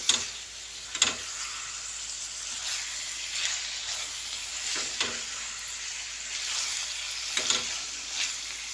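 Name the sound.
frying onions and spices for egg onion dish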